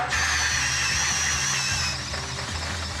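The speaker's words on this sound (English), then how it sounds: "I'm just gonna drill a 3-inch hole in here." A 3-inch hole saw cuts into aluminum with a loud, continuous high-pitched squealing whine, close up and steady, then easing slightly toward the end.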